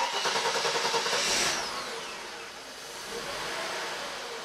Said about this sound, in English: Let's go ahead and give it another hot start now.